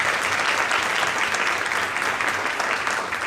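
Sustained applause from a crowd at a 100th anniversary event in Tulsa, steady and full throughout, with no breaks or voices standing out.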